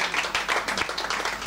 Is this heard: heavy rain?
no